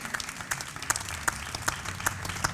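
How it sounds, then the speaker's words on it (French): Audience applause at a young-talent radio awards ceremony at the Salon de la Radio, a steady mid-level patter of hand claps with a few louder individual claps standing out, no voices over it. "Donc là, je vous demande de l'applaudir de nouveau Edmé Citroën"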